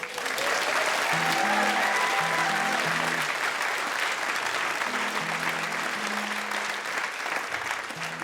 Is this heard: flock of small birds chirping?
no